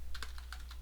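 Quick keystrokes on a computer keyboard while entering a Linux package-update command, about seven distinct clicky taps in under a second, close and clear with no voice.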